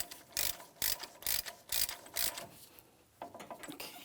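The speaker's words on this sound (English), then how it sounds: "Now when we tighten this axle nut, we have to do it by hand." A hand ratchet clicks in quick bursts while tightening the axle nut on a 2007-2014 GMC Sierra 2500 HD truck, about six rhythmic clicking runs close up, then slower, quieter clicks.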